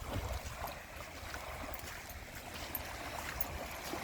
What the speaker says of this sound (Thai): เสียงน้ำ